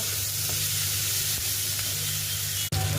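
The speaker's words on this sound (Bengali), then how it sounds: "এবার একটুখানি এটা লাল হওয়া পর্যন্ত হালকা মতো আমি ভেজে নেব" Onion pieces frying lightly in oil in a pan for a Bengali dish, a steady close broadband sizzle throughout with a brief dropout near the end, no voices.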